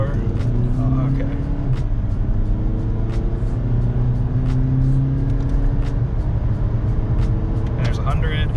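A VW Mk6/Mk5 common-rail TDI diesel with Malone Stage 2 tuning accelerating at full throttle, a loud steady engine drone climbing in pitch through the run, heard from inside the car with someone talking over it.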